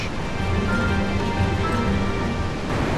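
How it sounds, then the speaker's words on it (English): A waterfall ahead in a walled river gorge in North Cascades National Park gives a steady, even rush of water, a constant hiss and roar with no breaks and no voices. "we can hear a waterfall right ahead of us"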